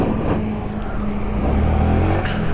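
Yamaha R15 V3 BS6 supersport motorcycle under way, its engine droning steadily and loudly up close with a continuous buzzing tone and wind rush, no talking.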